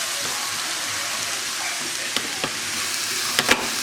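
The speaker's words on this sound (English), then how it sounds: "So you smash the garlic." A knife blade smashed down on garlic cloves in a kitchen, a couple of sharp knocks standing out over a steady hiss of background noise.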